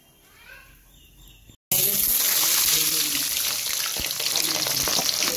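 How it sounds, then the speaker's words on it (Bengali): Oil hits a hot karahi for mutton curry and sizzles into a loud, steady frying hiss that runs without a break for several seconds, after a brief quieter stretch of kitchen handling. "এখন পরিমাণ মতো তেল দিয়ে দিচ্ছি কড়াইতে"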